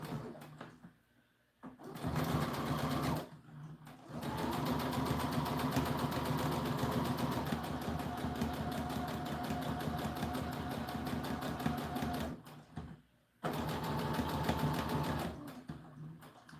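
A sewing machine stitches the collar seam of an American Girl doll dress in long, even runs of rapid needle clatter, broken by short pauses between passes, close up with no voices.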